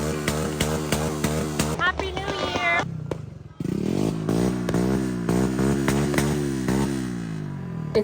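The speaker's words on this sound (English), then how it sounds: "our bartender is even revving his motorcycle." A motorcycle at a bar revs loudly and repeatedly, its engine climbing in rapid rising surges, cutting out briefly and then roaring again in rhythmic throttle blips close by, with voices underneath.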